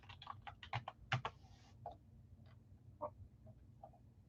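Keystrokes on a computer keyboard during a live sports card break, a quiet burst of quick irregular taps followed by a few scattered clicks, close to the microphone with no talk.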